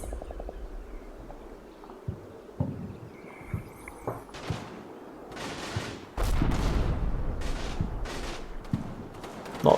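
Gunfire and machine gun bursts in a WWII war video game, with scattered sharp shots through the first half giving way to dense, continuous firing and rumbling explosions in the latter part.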